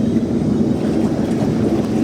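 Jacuzzi jets switched on, churning the water with a steady, loud, low rushing bubble that runs unbroken throughout, with no voices.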